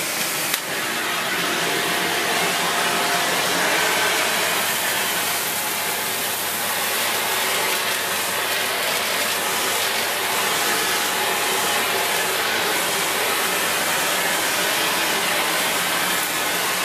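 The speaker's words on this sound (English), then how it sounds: "I'm going to have to use the hose and the wand to clean this up" A Shark Lift Away NV681UKT vacuum cleaner runs with its hose and wand attached, giving a loud, steady broadband whir that starts up abruptly and holds unbroken, close to the mic with no talking.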